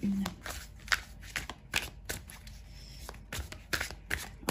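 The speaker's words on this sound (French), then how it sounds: "Ces cartes, elles sont super, mais elles sont difficiles à battre" Tarot cards being shuffled by hand, a series of sharp riffling bursts and soft slaps repeating irregularly, close and clear, while someone talks over them.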